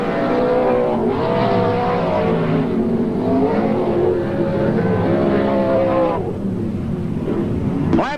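Speedway race cars lapping a circuit at a night championship meeting, engines rising and falling in overlapping pitch sweeps as they pass, loud and continuous with a crowd-like wash behind.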